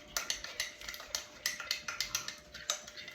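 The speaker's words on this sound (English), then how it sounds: "let's go ahead and stir our slurry" A utensil stirs a cornstarch slurry in a small container, giving a steady run of quick, light clinks and scrapes, close by and fairly quiet, with no talking.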